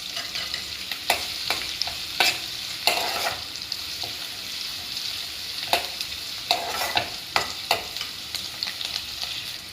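Onions and curry leaves fry in hot oil for a spicy okra curry, a steady bright sizzle with repeated sharp clicks of a spoon stirring against the pan, fairly close and with no talk.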